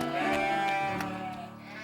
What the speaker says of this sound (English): David, you stay there and look after the sheep